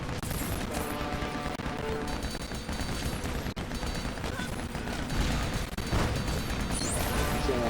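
Gunfire and smashing objects in the LEGO Batman 2 video game, a dense run of shots and crashes layered over steady game music, loud and continuous throughout.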